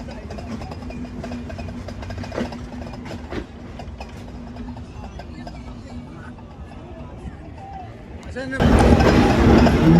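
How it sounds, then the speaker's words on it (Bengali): The Rupsha Express pulls out of Noapara railway station in Bangladesh, a close, steady mechanical rumble and clatter from inside the train under a speaking voice, jumping to a much louder roar near the end. "এখন ডিপার্চার নিয়ে বেরিয়ে যাচ্ছি নোয়াপাড়া রেলওয়ে স্টেশন থেকে"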